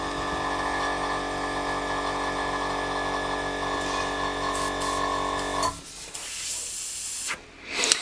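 A compressor hums steadily with a spraying hiss as an Iwata CR Plus airbrush sprays water, then cuts off, leaving short bursts of hissing air.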